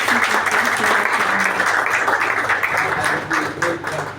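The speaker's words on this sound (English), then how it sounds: "Let's have another round of applause for the" An audience applauds steadily for several seconds at a computer lab inauguration in Lagos, a dense wash of clapping at moderate volume, with no talking over it.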